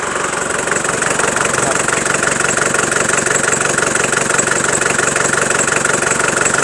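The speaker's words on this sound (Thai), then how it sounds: "ฟังเสียง เครื่อง นะ เสียง เครื่องนิ่มๆเลย" A Mitsubishi Cyclone pickup's engine idles smoothly and steadily up close, a constant low rumble with faint mechanical ticking and no change in pitch.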